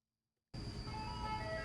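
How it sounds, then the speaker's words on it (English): An ice cream truck near Silverwood starts up abruptly after a moment of silence, a steady loud engine and chime-like drone holding continuously to the end. "the ice cream truck"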